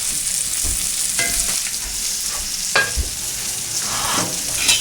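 A bacon patty frying in a pan for a country breakfast, giving a steady close sizzle with a few louder crackles and scrapes spread through it and no talking.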